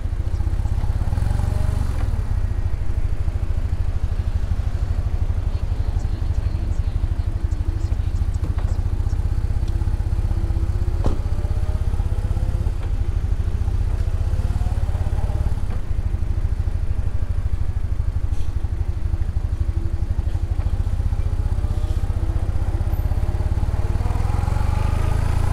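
A BMW R1300GS motorcycle rides along with a steady, loud engine drone and rushing wind, the pitch rising and falling gently through gear changes.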